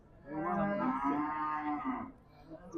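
A cow gives one long, drawn-out moo at a livestock market in Gijduvon, Uzbekistan, lasting about two seconds, fairly close and clear, with no talking.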